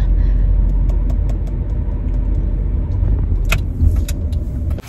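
Inside a car in heavy road traffic, a loud steady low engine and road rumble fills the whole stretch, with faint small rattles and jingles on top and no voices.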